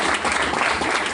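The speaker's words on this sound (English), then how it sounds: "let's give him a round of applause as well." Dense, steady applause from a seated audience at an education business talk, a continuous wash of many hands clapping fairly close and loud throughout.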